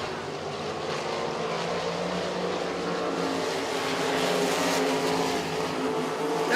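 Racesaver sprint race cars roar around a dirt track, a dense continuous engine drone from several cars that swells and fades slightly as the pack passes, with no talk.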